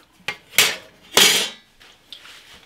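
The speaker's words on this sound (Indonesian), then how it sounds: "sekarang mau saya hajar permukaan ininya dengan kikir" Metal file scraping across the surface of a manual handsaw blade: two or three loud, brief rasping strokes with quiet gaps between them, close up and with no talk.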